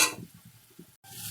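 Onions frying in a pan with Kashmiri red chili powder, soft sizzling with muffled scraping strokes of a stirring spoon in a short burst, broken by a brief gap.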